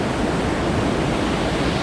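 Steady ocean surf rolling in at Shonan Hiratsuka beach on a March day, a broad continuous wash of breaking waves with no distinct crashes, alone and fairly loud throughout.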